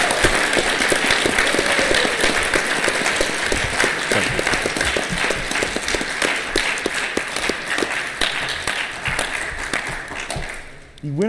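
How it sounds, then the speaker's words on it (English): An audience at a quiz bowl finals gives the teams a sustained round of applause, a dense, loud wash of clapping that continues for several seconds before tapering off at the end. "Can we give these teams a big round of applause as we're starting?"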